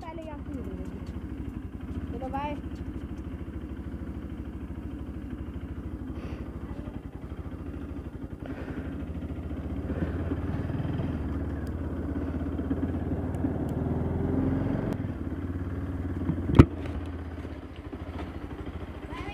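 A motorcycle engine runs throughout with a low, steady throb that grows somewhat louder as the bike arrives, ending with a sharp clack, while people talk over it.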